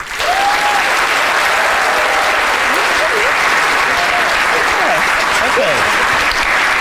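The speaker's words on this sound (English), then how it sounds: "Ladies and gentlemen, a big round of applause for Morgan and Venetia." A large audience claps loudly and continuously for a dog training demonstration, with whoops and voices rising above the steady roar of hands.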